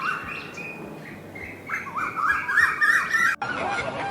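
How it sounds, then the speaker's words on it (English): A cuckoo calls among other birds, its repeated notes rising over a busy background of chirps and twitters, fairly close and moderately loud. "Cuckoo"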